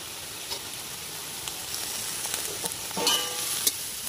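Capsicum of three colours, cut thick, stir-frying with other vegetables in a hot pan: a soft steady sizzle with light scraping and stirring clicks, a brief louder burst near the end, no voices.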